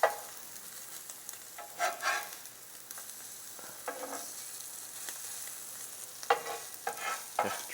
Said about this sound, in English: Now we browning these off on both sides.